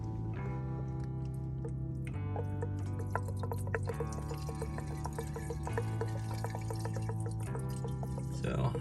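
Kerosene is poured into a cylinder of a rusted, seized 1930 Ford Model A engine, giving a soft, steady liquid trickle that is nearly buried under continuous tonal background music.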